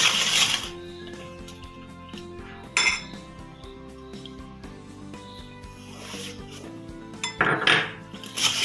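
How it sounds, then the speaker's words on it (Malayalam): A spoon clinks and scrapes against a bowl while plum cake batter with caramel is mixed by hand, no oven or beater, in uneven close bursts of metallic chinking with quieter stirring between. "ഇതിലേക്ക് കാരമലും കൂടി ഒഴിക്കുകയാണ്."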